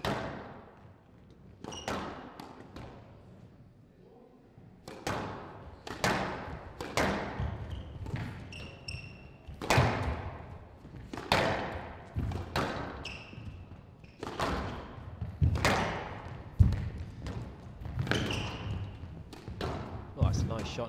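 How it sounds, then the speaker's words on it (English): Squash ball struck in a men's World Team Championship rally between New Zealand and South Africa, a series of sharp irregular thwacks and squeaks echoing in a court, with a commentator speaking over them. "Shot, nice skill from Potgieter."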